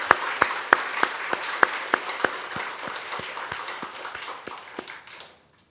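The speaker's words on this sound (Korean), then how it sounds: "살아계신 하나님께 우리 영광의 박수" Church congregation clapping in praise during a Wednesday worship service, starting with sharp, evenly spaced claps that blend into a brief round of applause before stopping abruptly.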